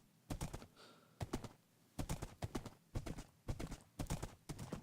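Rapid clip-clop hoofbeats of a racing horse galloping in a video game, arriving in quick repeated bursts of thudding strikes, loud and close with no talk.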